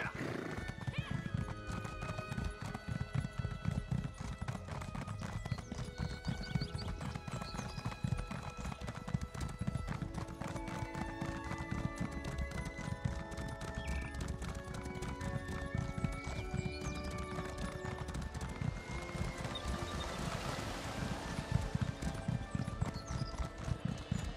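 Horses galloping in The Elder Scrolls Online video game, a steady rapid clip-clop of hooves running throughout with occasional whinnies, backed by music and voices.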